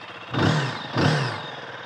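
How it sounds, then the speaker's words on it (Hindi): A 350cc single-cylinder motorcycle engine revs twice in quick succession, each throttle blip swelling loudly from a steady idle and then fading back, close up. "सिंगल सिलेंडर वाला इसमें साउंड है बट अगर इसको मैं थ्रॉटल देता हूं तो"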